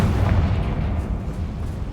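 In Hogwarts Legacy, the Confringo fire spell sets off a deep explosion: a boom that rolls on as a low, fading rumble.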